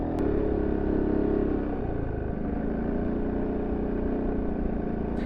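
A Peugeot XP400 GT EU5 scooter being ridden, its engine droning at mid pitch with a clear harmonic hum that drops as the revs ease, then holds steady under wind noise.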